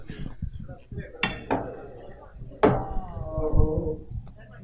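Cutlery and dishes clinking at a table, with several sharp ringing metallic chinks and clatters spaced irregularly, close by, while people talk in Spanish around them.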